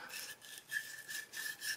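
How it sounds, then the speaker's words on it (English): A toothbrush wet with alcohol scrubbing a Starrett 98-8 machinist level, a quiet close rhythmic bristle rasp in repeated back-and-forth strokes, about four or five passes with no talk. "a little bit of alcohol on a toothbrush here"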